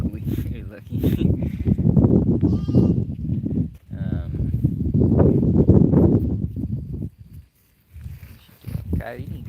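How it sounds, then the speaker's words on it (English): Sheep bleat among crop rows on a farm, mixed with people talking nearby, with steady wind outdoors and a brief lull near the end. "See all the sheep they getting all on the crop rows."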